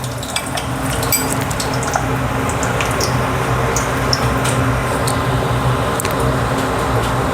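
Mustard and cumin seeds crackle in hot oil in a kadhai, giving a loud continuous sizzle dotted with sharp pops and spoon scrapes, close up and with no talking.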